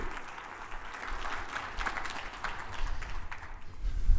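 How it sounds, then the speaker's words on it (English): Moderate applause from a morning conference audience welcoming a speaker to the stage, a soft, even wash of clapping that swells slightly toward the end. "Let's give him a round of applause."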